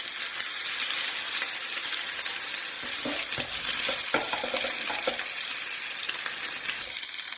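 Chicken meatballs for a kofta curry fry in a pan with a steady, close sizzle, and a few stirring scrapes and clinks come in the middle.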